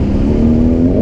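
BMW R18 motorcycle engine revving, a loud close steady drone whose pitch climbs slightly as the throttle opens, with no voices.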